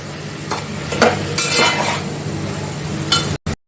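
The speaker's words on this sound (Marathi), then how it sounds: "थोडीशी बारीक चिरलेली कोथंबीर आहे ती टाकते म्हणून परतून घेते" Finely chopped coriander sautéed in a pan with spices for South Indian rasam, giving a steady close sizzle with several spoon stirs and clinks against the pan, ending in brief dropouts.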